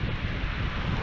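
Strong gusty wind blows on the Bristol Channel shore at Lilstock, a loud, continuous roaring rush buffeting close by with no pause.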